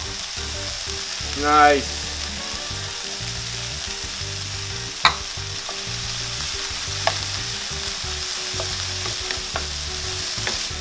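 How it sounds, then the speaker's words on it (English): Onions and peppers fry and get stirred in a pan, giving a steady sizzle with occasional scraping clinks; a voice speaks briefly near the start. "the onions and peppers have been cooking for just a little bit"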